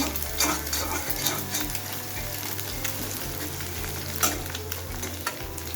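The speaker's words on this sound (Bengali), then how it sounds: "একটু ভালো করে নেড়ে চেড়ে নিচ্ছি" An egg fries in oil with green chillies for a gourd peel dish, sizzling steadily and fairly loudly while a spatula stirs it with light scrapes and taps.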